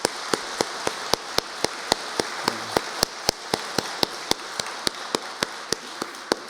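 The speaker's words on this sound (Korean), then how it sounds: "우리 하나님께 영광의 박수 하도록 하겠습니다" Congregation applauding at an Easter Sunday church service, a steady rhythmic clapping in unison at a brisk even beat, close and continuous with no voices over it.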